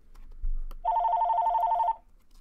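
A telephone rings indoors in one steady electronic trill lasting about a second, loud and close, after a brief thump, with no talking over it.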